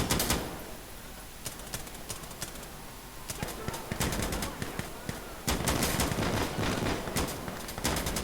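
Gunfire in the video game Insurgency Sandstorm: dense bursts of automatic fire and single shots crackle through the scene, with louder, near volleys after a brief lull.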